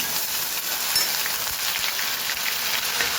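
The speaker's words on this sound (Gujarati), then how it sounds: "ડાયરેક્ટ જ ડુંગળીની પેસ્ટ એડ કરવાની છે." Onion paste hits hot oil in a pan and sizzles loudly and steadily, a dense, continuous crackling hiss with no one talking.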